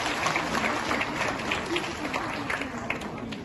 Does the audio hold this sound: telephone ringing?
no